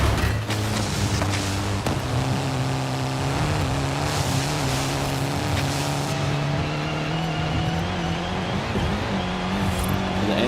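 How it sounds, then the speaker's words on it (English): Engine of a fast car heard from the cockpit view in the racing game Forza Horizon 5, a loud, steady, harmonic drone with rising and shifting pitch as it accelerates, continuous throughout with no talk. "You hear more of the engine, I feel like, in a different way on the inside."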